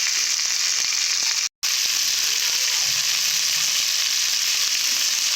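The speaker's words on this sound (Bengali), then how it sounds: "আলুগুলোকে একটু ভালো করে ভেজে নেব চারিদিকে চারিদিকে ছেড়ে দিয়ে" Potatoes frying in oil in a pan while cooking a rupchanda fish curry, giving a steady, loud broadband sizzle that continues throughout, with one brief cut to silence near the start.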